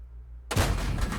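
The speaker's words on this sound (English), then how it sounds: "here comes the artillery" Artillery fire in a tank video game: after a moment of near silence, a sudden loud blast erupts and keeps rumbling heavily for the rest of the moment.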